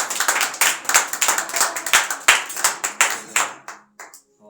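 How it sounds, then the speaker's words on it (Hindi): A church congregation claps during a sermon, a run of loud, fairly rhythmic hand claps from a group close by that stops abruptly, leaving a few scattered claps trailing off. "ऐसे खुदा के लिए जोरदार तालियां हो"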